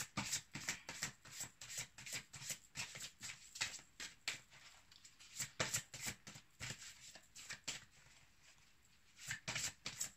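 A deck of oracle cards being shuffled and drawn by hand, close and quiet, with repeated quick riffling bursts and soft slaps in an uneven rhythm, broken by a brief pause near the end.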